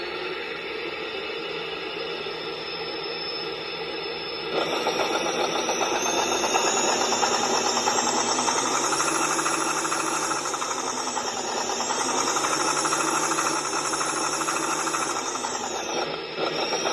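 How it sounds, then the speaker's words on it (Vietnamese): An RC tank sound module, a Beier SFR-1-D, plays the M1 Abrams turbine engine: a steady whining hum that surges louder after a few seconds, its high whine sweeping up and down as it revs, with no voices. "Tiếng động cơ tua bin rất đặc trưng của M1."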